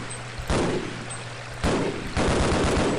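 Gunfire in the shooter game Half-Life: Blue Shift, with three loud broadband bursts at roughly one-second intervals and a steady low hum running beneath until the second shot.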